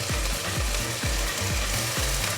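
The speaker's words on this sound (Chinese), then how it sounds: "现在就让节瓜慢慢的煎出颜色。" Zucchini pan-frying in oil gives a dense, constant sizzle, broken by a regular series of dull low knocks from the pan roughly every half second, close and fairly loud with no voices.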